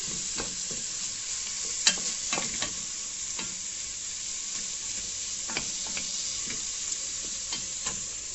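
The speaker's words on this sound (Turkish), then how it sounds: "Şimdi soğan atacağım ben içine. Biraz kavuracağım bunu." Onions sizzle steadily in a pan with minced meat for a Turkish stew, with a continuous frying hiss and scattered scrapes and clicks of a spoon stirring, close and with no talking.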